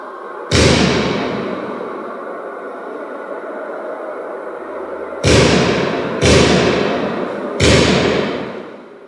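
Four sharp, heavy gunshot impacts on a steel and armored glass sculpture ring out, one alone then three in quick succession, each decaying with a metallic, echoing tail.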